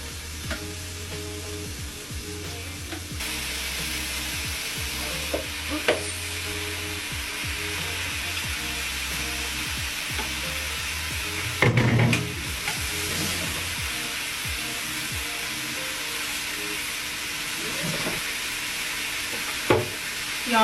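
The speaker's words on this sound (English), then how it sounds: "Good, you should hear it sizzle." Chicken browning in a hot pan gives a steady, close sizzle and frying crackle throughout, with occasional scrapes and clatters of utensils and no talk.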